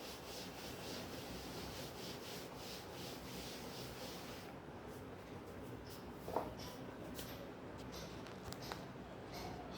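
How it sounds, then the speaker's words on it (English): A classroom board being rubbed clean, a steady close scraping and swishing that continues throughout, with one brief knock partway through. "So I am rubbing the board"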